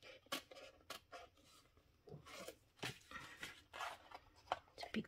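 Scissors cut through cardstock for a reinforced paper card box in a short series of crisp snips and rustles, close and quiet, with no talk over them.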